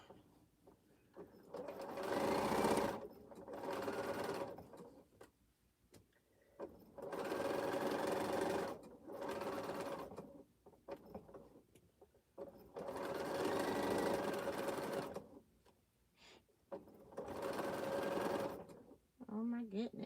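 A sewing machine runs in repeated bursts of a few seconds each, stitching a quilt seam on an exploding star quilt, with short pauses between runs and a voice talking quietly in the background.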